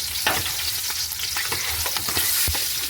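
Whole green chillies sauté in a pan of hot oil with a steady, close sizzle, broken by scattered crackles and the scrape of stirring. No one talks.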